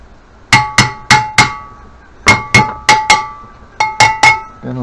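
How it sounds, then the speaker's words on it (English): Sharp metallic hammer strikes ring out during a water pump repair, about a dozen hits in quick groups of two and three, loud and close with bright ringing decay. "Again, another clump with a hammer."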